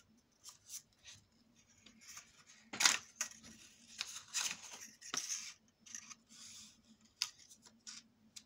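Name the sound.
cutting excess paper with scissors for an autumn album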